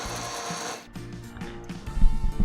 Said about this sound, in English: And now we are going to grind the vegetables.